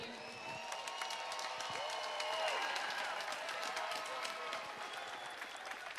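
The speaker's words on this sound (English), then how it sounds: "how about a round of applause for these men inside the ring?" Crowd applause for boxers in the ring after a four-round amateur bout, steady dense clapping and cheering throughout, with an announcer's voice faintly over it.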